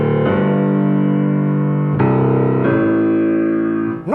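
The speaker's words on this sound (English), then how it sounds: "If I were to play that without substitution, it will sound like this." Piano left-hand passage played without finger substitution: sustained harmonic chords with new notes struck near 0.3, 2.0 and 2.7 seconds, ringing smoothly and loud, then a quick rising run at the end, no voices.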